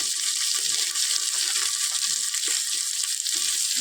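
Thick chunks of raw onion frying in a pan for ghugni curry, a loud, dense, steady hiss of sizzling oil filling the space, close and without voices.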